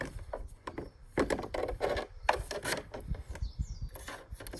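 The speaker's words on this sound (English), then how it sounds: "because the holes are quite a bit bigger than the metal rod, they slide through" Plastic pieces sliding onto a metal rod through oversized holes, a series of close, light scraping and clicking rubs in an irregular rhythm.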